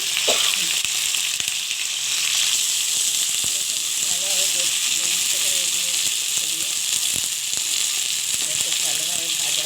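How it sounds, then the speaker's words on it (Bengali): Soft okra frying in hot oil for a poppy-seed dish gives a loud, continuous sizzle and hiss with occasional stirring clatter, while a person talks over it. "তাই আমি ভেন্ডিটা তুলে দিচ্ছি ভাজার জন্য"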